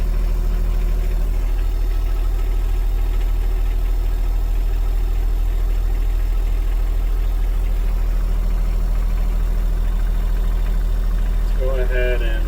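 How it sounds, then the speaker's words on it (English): A John Deere 1025R compact tractor engine idles in neutral, heard from inside an aftermarket Mauser cab: a steady, muffled low hum and drone holding constant throughout, with a few faint higher rattles near the end. "so now we're sitting at idle"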